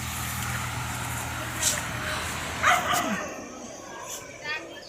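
Village dogs bark in short bursts at a moderate distance, a few yips standing out against steady outdoor background noise after heavy rain, with people talking nearby.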